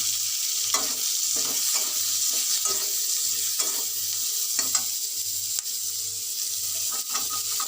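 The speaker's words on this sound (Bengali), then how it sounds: "আমি পেঁয়াজ তুলে দিলাম পেঁয়াজগুলো একটু ভেজে নেবো" Onions frying in a little oil in a wok that earlier held fried potatoes, a constant hissing sizzle with rhythmic stirring scrapes and a faint low pulsing hum beneath, close and without voices.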